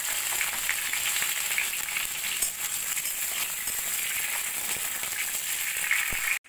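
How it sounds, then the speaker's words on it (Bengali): Small cut pieces of pointed gourd (parwal) frying in hot oil, a loud, steady bright sizzle with light crackling that cuts off abruptly at the end. "ওই তেলের মধ্যেই আমি আগে থেকে কেটে রাখা পটলগুলোকে ভেজে নেব।"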